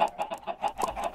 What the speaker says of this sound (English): Now, I think I'm going to go ahead and breed all these chickens.